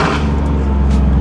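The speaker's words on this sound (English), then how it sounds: "Still sounds good, but I can just tell we have an exhaust leak" Turbocharged Ford Focus ST with an exhaust leak, a loud close raspy exhaust rumble holding steady through a short burst, with no voices.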